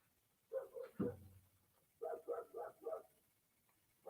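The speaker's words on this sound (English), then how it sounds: "Doggy wants to come." A dog barks in a room, one short pair of barks followed by a quick run of four barks after a pause, moderately near and otherwise quiet.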